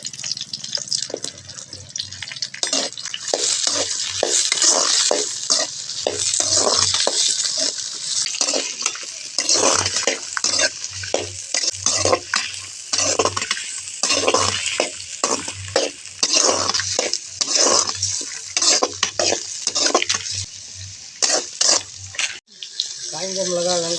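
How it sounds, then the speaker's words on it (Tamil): Onions and tomatoes sizzle in a hot pan for fish chutney while a utensil scrapes and stirs in a steady, repeated rhythm, close up. "வெங்காயம் தக்காளி எல்லாம் நல்லா வதங்கிட்டுருக்கு"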